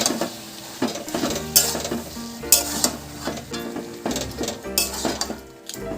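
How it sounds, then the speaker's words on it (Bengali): Spoon stirring bottle gourd curry with green chillies in a pan cooked in fish oil, steady scraping and clinking strokes over a continuous frying sizzle, close and fairly loud. "সব কিছু ভালো করে একটু মিক্স করে নেব।"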